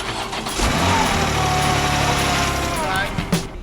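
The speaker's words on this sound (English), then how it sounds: "The pressure is fine, the engine runs smoothly, no strange noises, everything's spot on." A BMW M4 Competition engine idling and running smoothly at close range, a steady low rumble with a brief rev at the start.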